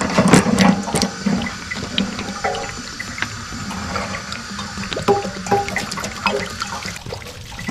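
Water draining out of a camper's water heater outdoors after the plug is unscrewed with a 27 mm wrench, a loud, steady gush and splash with faint clinks.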